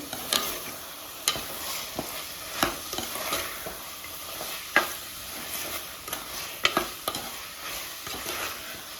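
Green peas and carrot stirred and frying in a pan for pulao, with a soft sizzle under repeated sharp scraping and knocking strokes of a spoon at an uneven rhythm.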